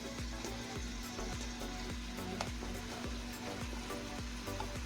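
Ground turkey hitting heated oil in a soup pot sizzles and fries steadily, a close, continuous crackle with a few soft scraping stirs and no talking.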